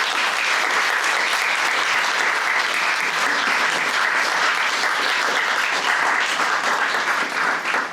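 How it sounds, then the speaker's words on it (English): Audience at a World AIDS Day reception gives sustained, even applause, dense clapping that holds steady throughout with no talk over it. "Can I have a round of applause for them"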